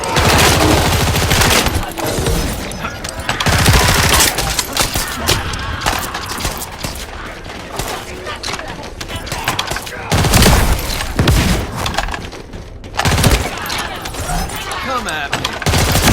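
Assault turret in The First Descendant firing in a sustained, dense barrage of rapid gunfire with heavy booms, loud and close throughout, pausing briefly only a couple of times.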